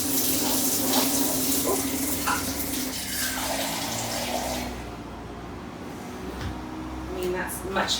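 Hot water poured into a mixing bowl while making biscuits, a steady splashing pour under a person talking, thinning out partway through.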